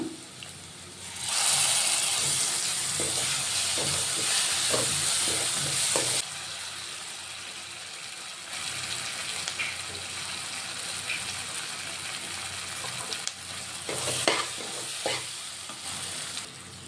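Ground spice paste for stuffed eggplant curry is frying in a pan. It gives a loud burst of sizzling that then drops to a softer, steady frying hiss with occasional stirring clatter.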